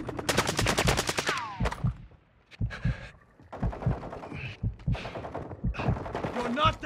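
Video-game gunfire crackles in rapid automatic bursts and single shots, fairly close and loud, mixed with game radio voices and other battle sounds.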